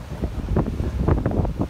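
Gusty wind buffeting the microphone, a low rumbling roar that swells and ebbs unevenly, close and fairly loud with no speech.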